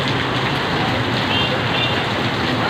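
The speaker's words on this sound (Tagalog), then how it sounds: "Ang lakas ng ulan doon o." Heavy typhoon rain from Typhoon Hanna pours down in Antipolo City, a dense, loud, unbroken hiss of water on surfaces with no pauses.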